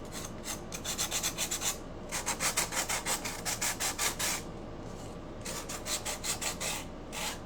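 Rhythmic rasping strokes of sandpaper on the edges of a wooden Halloween cut-out, quick back-and-forth bursts in two runs separated by a short pause, close and clear with no talk.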